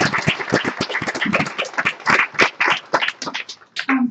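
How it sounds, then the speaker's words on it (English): Lecture audience applauds at a college talk on trans cinema, a dense burst of hand clapping that rises and fades, close and fairly loud, with a brief voice at the end. "another round of applause, please."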